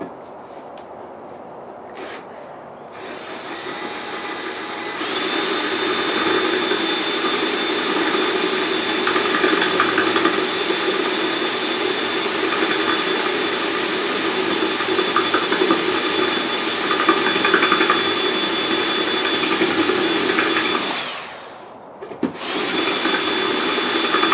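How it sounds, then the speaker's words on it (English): A power drill grinds steadily into a concrete block for about fifteen seconds, a loud, continuous whine with rough rasping, briefly stopping near the end. "drill a hole in this concrete block"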